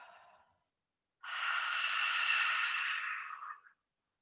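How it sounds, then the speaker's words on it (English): A single forceful, breathy yoga lion-breath exhale, like steaming up glasses, rushes out for about two and a half seconds after a softer breath, then stops abruptly. "as I'm breathing out, I'm just blowing on my glasses"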